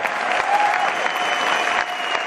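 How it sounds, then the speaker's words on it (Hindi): An audience at a motivational business seminar claps in a steady, even burst of applause that fills the short stretch at moderate loudness. "तालियां अपने लिए बजाओ, अपनी डायमंडशिप के लिए।"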